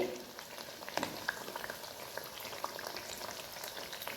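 Eggplant bhaji fritters deep-frying in hot oil, a continuous fine crackle and bubbling at low level with a few sharper pops, close by and with no talk.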